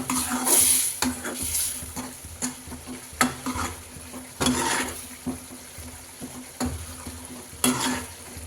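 Repeated scraping and stirring strokes as dried peas for batani chaat are mixed in a pan over a soft sizzle, with occasional clinks of a utensil against metal.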